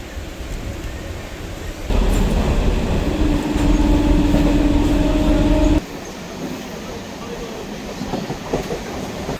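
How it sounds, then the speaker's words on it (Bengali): A moving passenger train heard from on board, a constant rumbling roar with wheel clatter that swells louder in the middle with a brief high squeal, then drops back to a quieter steady run. "ট্রেন ছেড়ে দিল"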